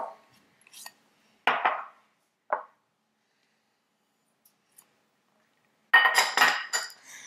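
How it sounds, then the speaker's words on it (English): Two kinds of sugar tipped into a large mixing bowl, heard as a few short, close granular rushes with light clinks against the bowl, separated by quiet pauses, then a longer pour near the end. "So first I'm going to add both kinds of the sugar into the large mixing bowl."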